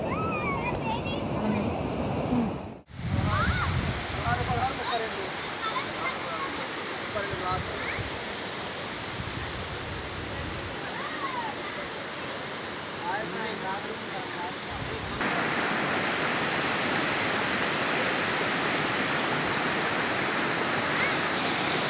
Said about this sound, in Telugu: చూడండి వాటర్ ఫాల్స్ ఎంత బాగుందో.